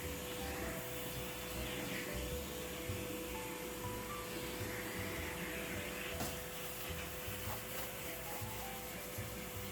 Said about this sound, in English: we had to vacuum the exterior panels and the filters on them